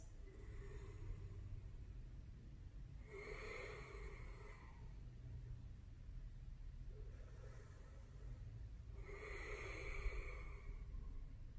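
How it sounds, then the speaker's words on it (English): Slow, deep breaths during a slow-flow yoga session. Two long, quiet inhale-exhale cycles come close to the microphone over low room rumble, with no talk. "Deep breaths."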